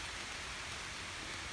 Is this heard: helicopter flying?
no